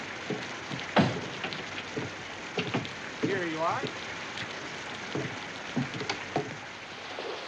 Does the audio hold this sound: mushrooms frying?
no